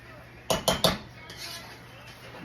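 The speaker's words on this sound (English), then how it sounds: "Okay, so you stir your rice, you bring the bottom part to the top, and you fold it pretty much on top of each other." Rice with pigeon peas is stirred and folded in a pot, giving three quick, sharp metal clinks of a spoon against the pot followed by softer scraping, close by against a quiet background.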